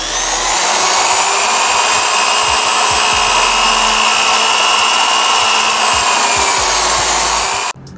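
A thin drill bit bores a hole while changing the controls and grips on a Suzuki Katana 600 motorcycle, making a steady, loud, close whirring drone that runs unbroken for several seconds and then stops abruptly.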